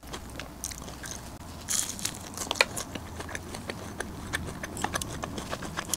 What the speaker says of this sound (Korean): 이거 포장이 맞는데도 되게 바삭하다